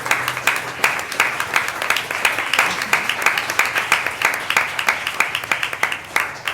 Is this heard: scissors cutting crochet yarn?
no